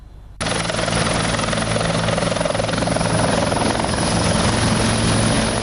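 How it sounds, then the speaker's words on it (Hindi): A helicopter roars loud and close as it comes in to land, its steady rotor thump and engine whine filling the air after starting abruptly. "आसमान से उतर रहे इस हेलीकॉप्टर में एक नेता सवार है।"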